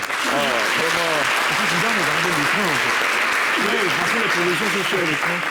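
Studio audience applause on a French general-knowledge TV quiz show, a steady dense wash of clapping throughout with voices talking and exclaiming over it.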